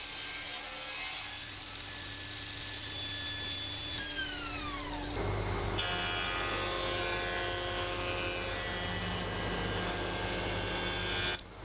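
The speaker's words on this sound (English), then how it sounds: "I'm just running the pieces that I've cut down on the saw back through the planer" A thickness planer runs as cut wood pieces are fed back through it, giving a loud, steady machine drone with a falling whine partway and a harsher cutting roar after, continuous and with no talk.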